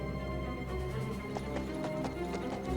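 Horse hooves clip-clopping in the medieval video game Kingdom Come Deliverance 2, a steady rhythmic trot of hoofbeats close by over a constant low game ambience, no talking.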